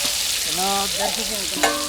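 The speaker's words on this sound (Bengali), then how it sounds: "আচ্ছা পেঁয়াজ ভাজা" Continuous loud sizzling of about 1.5 kg of chopped onions frying in oil, with a voice talking briefly over it, and a metallic clink near the end.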